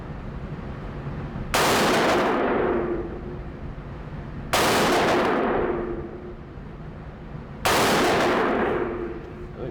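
Three loud rifle shots from a Tommy Built TG36K, an HK G36 clone, fired at a range, spaced about three seconds apart, each a sharp crack with a ringing decay.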